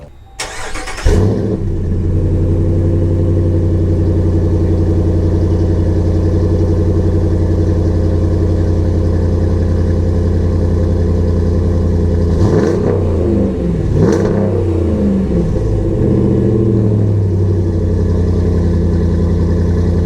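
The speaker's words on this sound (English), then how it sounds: "That's the Gibson startup. That was a cold start, so I'll give you that." A Ram 1500 with the 5.7 Hemi V8 and a Gibson exhaust cold-starts: a brief starter crank catches into a loud, deep, steady idle that rumbles on, with a couple of throttle blips late in the run.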